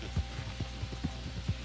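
Horse hooves clip-clop in Red Dead Redemption, a steady walking rhythm of about eight soft dull thuds over a faint constant hum, close but quiet.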